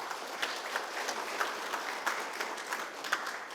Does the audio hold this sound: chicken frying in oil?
no